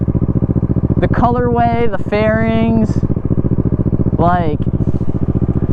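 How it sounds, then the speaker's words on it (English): Kawasaki Ninja 650 motorcycle fitted with a Yoshimura full titanium exhaust idles steadily and loudly throughout, with a person talking over it in short bursts. "You can see I got the Yoshi full exhaust, full titanium, sounds pretty solid."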